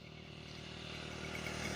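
A motorcycle on a busy road near Daulat Nagar in Lalamusa approaches with a steady engine drone that grows gradually louder, as if closing in.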